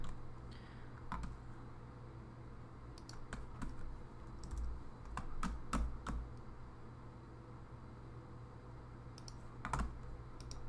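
A computer keyboard tapped in sparse clusters of sharp key clicks, as shortcut keys are pressed while editing an image, close and quiet over a low steady hum, with no talking.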